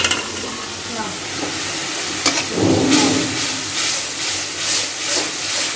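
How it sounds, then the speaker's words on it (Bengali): Batter-coated food frying in a pan, a continuous bright sizzle and hiss with a few stirring scrapes, close and fairly loud with no talking. "মিশিয়ে তারপরে এটা ভেজে নেব।"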